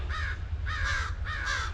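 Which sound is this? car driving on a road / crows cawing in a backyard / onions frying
crows cawing in a backyard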